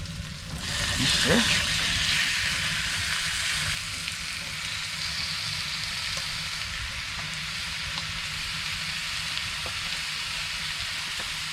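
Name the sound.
meat frying on stove in ice fishing tent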